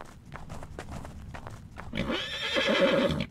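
A horse-head weapon in a video game lets out a loud, close, drawn-out whinny in the second half, after a run of light clopping taps.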